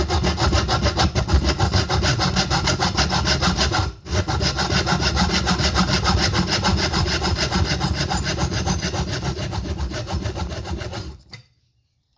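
Rapid rhythmic sawing through a wooden section for arrow making, loud close rasping strokes with one brief pause near the start, then cutting steadily until it stops abruptly.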